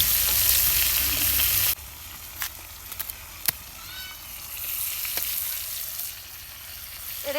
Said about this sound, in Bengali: মাছ ভেজে নিতেছে